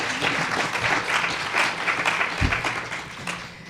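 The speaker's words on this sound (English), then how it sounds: "let's give a round of applause," An audience at a panel event on human rights and climate justice gives a short burst of applause, loud and close, with scattered claps running together throughout.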